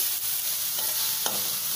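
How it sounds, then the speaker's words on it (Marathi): Ragi flour mixed with a little milk is stirred in a hot pan, making a continuous soft sizzle with a couple of light scraping strokes, and no one speaks. "नीट मिसळून घेते."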